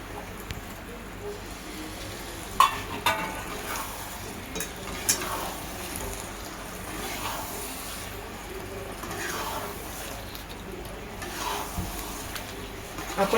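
Egg biryani masala with eggs cooks over a low flame, giving a soft continuous sizzle with occasional stirring scrapes and light clinks from the pan. A voice talks faintly in places.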